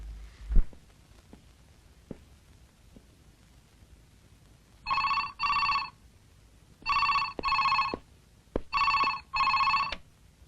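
A telephone bell ringing in a home, four loud bursts of ringing in pairs with short gaps between them, alone, after a few faint knocks and thumps.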